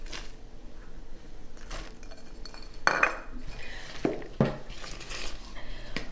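Zucchini bread batter being mixed in a bowl with flour, raisins and nuts, giving soft scraping and a few sharp clinks of a utensil against the bowl, close and fairly quiet, with no talking.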